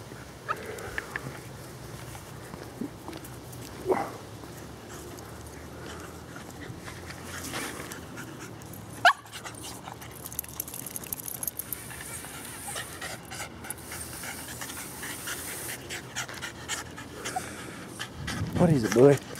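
A dog excitedly tracking a squirrel scent outdoors pants steadily close by, with faint whimpers mixed in, while someone talks over it at times.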